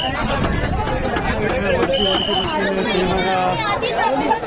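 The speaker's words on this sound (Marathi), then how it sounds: "प्रचंड गर्दी" Busy railway station crowd chatter, a dense babble of many voices close around with constant hubbub and movement, steady and loud throughout.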